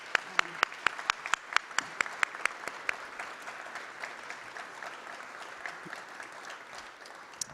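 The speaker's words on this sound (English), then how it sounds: "please join me in a round of applause to all of our instructors" Applause from a police academy graduation audience honouring the instructors, steady clapping from a sizable crowd in a hall, moderately loud and continuous throughout, fading slightly toward the end.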